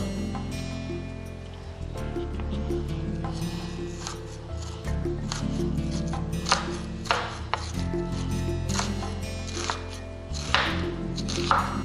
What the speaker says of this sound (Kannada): ಈರುಳ್ಳಿ ಸಣ್ಣದಾಗಿ ಉದ್ದ ಹೆಚ್ಚಿಕೊಳ್ಬೇಕು.